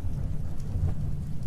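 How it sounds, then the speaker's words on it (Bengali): A sudden downpour with thunder, low continuous rumbling under a dense wash of rain, steady and enveloping for the whole stretch, with no one speaking. "এমন সময় আচমকায় বৃষ্টি শুরু হয়ে গেল।"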